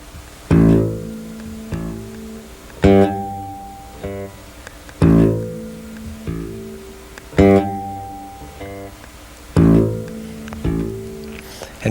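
Bass guitar played with deliberate dynamics, notes alternating loud and soft in a steady repeating pattern, each attack sharp and ringing with sustained harmonics, close and alone without voices.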